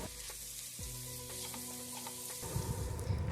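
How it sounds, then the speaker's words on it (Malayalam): Chopped chicken pieces sautéing in a hot pan for chicken noodles, a steady close sizzle with scraping stir strokes partway through and a louder burst of frying near the end. "അതിലേക്ക് 1/2 കപ്പ് ചിക്കൻ്റെ ചതപ്പീസ് ചെറുതായി അരിഞ്ഞതും ചേർത്ത് വഴറ്റാം"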